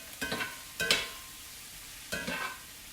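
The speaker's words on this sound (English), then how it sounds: "It's a little bit too difficult to do with a cast iron skillet because it's just too heavy. So that's why I'm using the spatula." Mushrooms and onions sautéing in a heavy cast iron skillet, scraped and stirred with a spatula: three short bursts of scraping and sizzle, moderately close and fairly quiet, with no talking.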